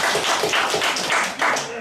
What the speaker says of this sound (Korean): 예수님께 박수 한번 쳐요.